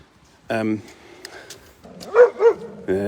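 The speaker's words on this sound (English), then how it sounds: "I'm being pulled by this dog" A dog pulling on its lead in deep snow in Bristol gives a few short barks and yips, close by, mixed in with a person talking.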